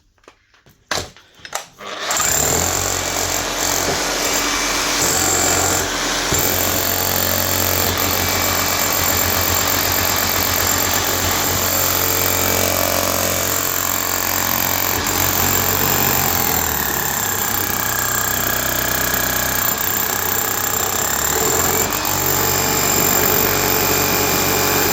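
An old Bosch GBH 7-45 DE hammer drill hammers on a block after a few short starting bursts, then runs as a loud, steady, rapid pounding rattle that holds at full power to the end.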